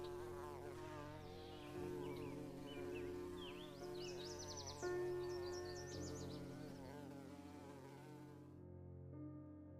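A dense, steady buzz of wasps, with layered droning tones holding throughout and some wavering higher whines, loud and close, ending abruptly.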